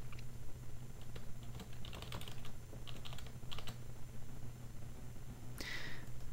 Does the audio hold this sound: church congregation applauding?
no